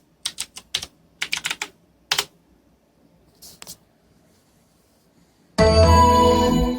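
Password typed on a computer keyboard during a PC upgrade: bursts of close, crisp key clicks in quick clusters with pauses between them, then a loud, steady toned startup chime that sustains to the end.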